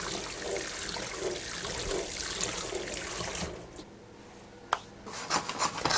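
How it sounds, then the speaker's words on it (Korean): Cooked couscous is rinsed under cold running water in a sieve at a sink, a steady splashing rush that stops partway, followed by a few sharp clinks and soft handling noises. "얘를 찬물에 헹궈서 체에 받쳐서 준비해 주세요."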